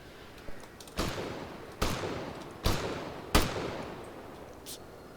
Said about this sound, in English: B4 is firing from this position now.